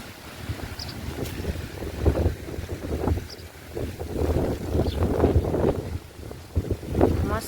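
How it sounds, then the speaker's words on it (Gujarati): Cold wind gusting on the open shore at Madhavpur beach in Gujarat, a steady roaring buffet against the microphone with low rumbling swells and faint surf, loud and continuous with no talk. "કેમ કે એકદમ ઠંડો પવન આવે છે"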